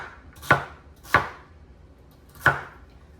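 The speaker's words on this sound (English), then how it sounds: "then I take half a rib and cut that in half, and then just chop that up" A knife chops celery on a cutting board, three crisp separate thuds spaced about a second apart, close and clear with no talking.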